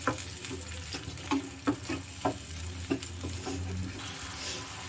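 Tomato paste gravy for a Tamil vatha kulambu with wild brinjal (turkey berry) bubbles and sizzles in a pan, stirred with soft repeated scraping taps over a steady simmer, close and moderately quiet with no talking.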